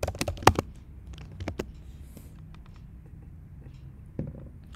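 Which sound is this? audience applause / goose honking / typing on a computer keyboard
typing on a computer keyboard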